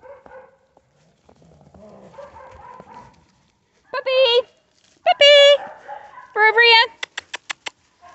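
Puppies in snow give short high yips, whimpers and a quick run of sharp barks, close and fairly loud, coming in bursts between quieter stretches where a person speaks softly.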